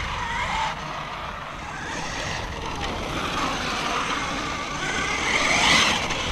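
Losi Super Baja Rey 6S RC truck running on asphalt, a fairly faint broadband motor whine and tire rush that swells toward the end, heard alone at moderate distance.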